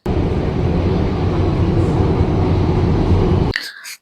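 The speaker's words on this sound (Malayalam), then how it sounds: "ട്രാം T13 പോകുന്നത് കേട്ടോ" A T13 tram in Paris rumbles past at close range, a loud, steady, low roar lasting several seconds before cutting off abruptly near the end.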